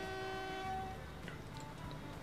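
A train in the Transport Fever game sounds a steady, sustained horn-like tone that fades partway through, over a low rumbling rail hum and some faint clicks.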